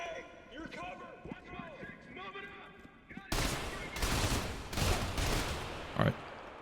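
Gunfire from AI enemies in the shooter Trepang2 erupts after a stretch of talk, a dense loud burst of rapid shots and impacts lasting several seconds with a sharp crack near the end.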